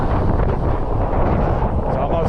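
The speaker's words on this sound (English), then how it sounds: "It's almost too damn windy." Strong coastal wind buffets the microphone on a bike-packing trip near Bucksport, Maine, a loud, continuous low rumble with gusty surges throughout.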